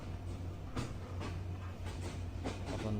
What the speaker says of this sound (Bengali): এই যে পদ্মা এক্সপ্রেস